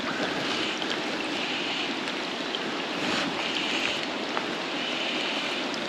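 River water flows steadily downstream on a fishing stretch where the water runs deeper, a continuous close rushing wash with faint small splashes and no speech.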